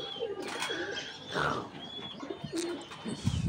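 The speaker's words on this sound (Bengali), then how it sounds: "এখানে কিছু কবুতর আছে" Pigeons in a home loft, including red Bombay fancy birds, coo and call in soft repeated bursts at close range, with light chirps and a brief flutter of wings.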